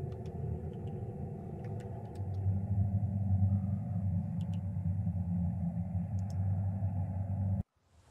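Storm rumbling in the survival game Mist Survival, a low continuous rolling rumble with faint scattered ticks above it, growing slightly stronger before cutting off abruptly near the end.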